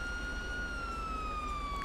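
Emergency vehicle siren in the video game GTA V, a steady sustained wail with slowly falling pitch, loud and continuous for the whole stretch with no talk over it.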